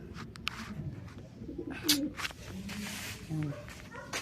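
Pigeons coo in low, throaty bursts amid a busy mix of bird calls and background chatter, with people talking nearby.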